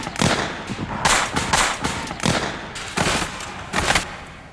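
An early percussion cap firearm using copper caps of fulminate of mercury, or a volley of such guns, fires in a series of sharp cracking reports. Five or six loud bangs come at irregular intervals about a second apart.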